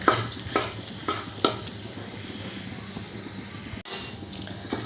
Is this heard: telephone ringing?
no